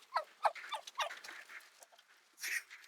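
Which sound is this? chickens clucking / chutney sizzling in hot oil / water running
chickens clucking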